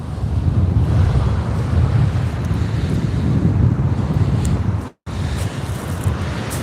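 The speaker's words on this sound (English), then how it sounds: "Tell how much the wind's picked up." Strong onshore wind at sea, heard from a fishing kayak, buffets the microphone in a loud, continuous low roar. Surf-like rumble sits beneath it, and a brief dropout comes near the end.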